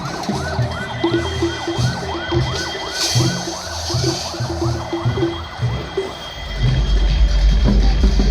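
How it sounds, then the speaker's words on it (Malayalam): An ambulance siren wails in repeated rising-and-falling sweeps during the night festivities of the Manathala Nercha festival in Chavakkad, steady and fairly close over crowd and traffic rumble, with a heavy engine swelling at the end. "അവിടുന്ന് ഒരു ആംബുലൻസ് വരുന്നുണ്ട്."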